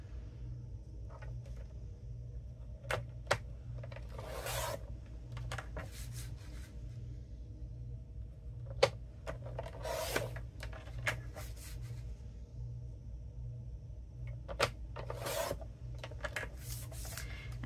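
Strips of paper are cut to size for cards, with quiet scattered snips and slicing rubs over a faint background hum, soft and close, with no voices.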